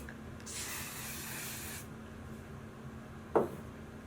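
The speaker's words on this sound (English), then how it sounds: "spray it on the roots a little bit." A single long hiss of a spray bottle misting hair at the roots, close and soft, followed by a brief sharp click near the end.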